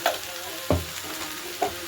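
A low, constant frying hiss of potato, spring onion, cauliflower and flat beans in a pan, with a few sharp clinks of a utensil scraping and stirring the pan.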